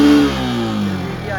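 Yamaha R15 V4 motorcycle engine revving hard past 7000 RPM, a loud steady mid-pitched drone that sweeps down slightly in pitch across the short burst, with no talk over it.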